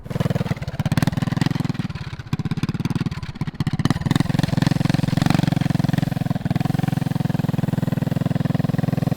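A small go-kart engine idling and running nearby at a shop, a loud, steady buzzing putter with rapid regular firing pulses, briefly fluttering and dipping in the middle before settling back into an even drone.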